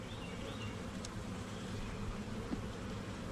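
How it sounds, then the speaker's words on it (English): Dense, steady buzz of a great many honeybees inside an opened hive box during a spring inspection, a continuous low hum with no voices. "there's a ton of bees in here"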